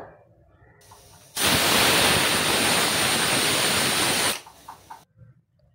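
A pressure cooker holding ragda vents its steam in one loud, continuous hiss lasting about three seconds, close to the microphone, with quiet clinks before and after.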